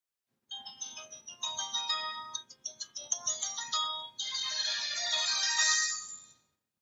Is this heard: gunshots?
no